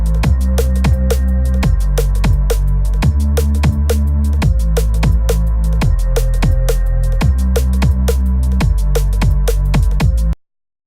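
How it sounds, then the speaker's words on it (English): Drum and bass loops from Ghost Hack's Liquid Essentials sample pack play loud and dense, with fast, punchy kick and snare hits over a deep, sustained bass line, running steadily for about ten seconds before stopping abruptly. "So these are the loops that I've got loaded up from the sample pack."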